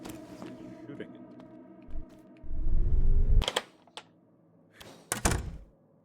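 A stake gun fires in a horror video game, giving a few sharp, heavy thunks spaced apart among quieter mechanical and ambient game sounds.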